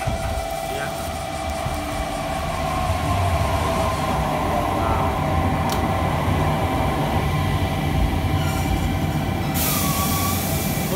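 A stopped silver, subway-style electric train with long bench seats hums and idles steadily at a station platform on Japan's Nippō Main Line, with faint background voices and a few brief clicks.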